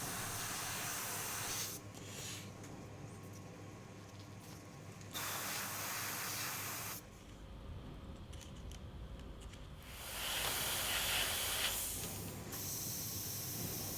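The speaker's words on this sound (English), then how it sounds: "I'm going to be doing some freehand airbrushing just to start bringing out some of these shaded areas" Airbrush spraying paint freehand while shading a car wreck painting, a faint, close airy hiss running continuously with several distinct bursts of brighter spray that start and stop over the stretch.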